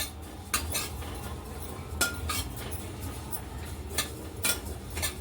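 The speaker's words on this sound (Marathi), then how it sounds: "त्याच कढईमध्ये आपले जिरे आहेत नाही मस्त भाजत आहेत" Cumin seeds dry roast in a hot kadhai, a soft background hiss under repeated sharp metallic scrapes and clinks of a spatula against the pan at irregular intervals, heard alone without talk.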